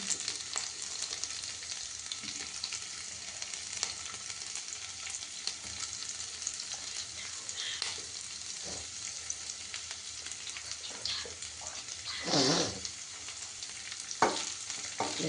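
Broccoli sizzles and fries steadily in a pan, a continuous crackling hiss with a few louder stirring bursts near the end and no talking.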